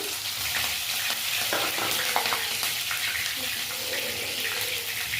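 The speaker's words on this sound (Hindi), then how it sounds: "अब डाल देंगे यहाँ पे 2 हरी मिर्ची कटी हुई" Chopped green chillies and ajwain hitting hot oil in a pan, a steady, dense sizzle and hiss that runs the whole time, close and loud, with no voices.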